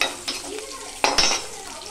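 Curry leaves hit a hot pan with garlic and onion for a village-style radish chutney, sizzling loudly with scraping stirs and a sharp clatter of a utensil against the pan partway through.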